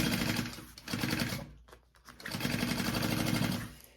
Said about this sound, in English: I'm just going to sew the top first so it's in place and not going anywhere before I do the sides.